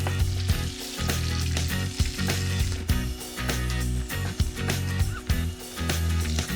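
Salted oxtail sears in a hot pan, a loud, dense sizzle and crackle running throughout with brief dips and bursts of spitting fat, close by.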